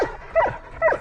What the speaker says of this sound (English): So what this barking is, Louis can't get the ball off of Bixie